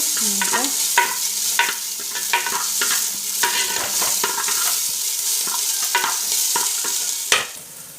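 Ginger frying in a pan for a Tulu crab curry, giving a loud, continuous sizzle broken by frequent scrapes and clinks of stirring, close up and with no speech.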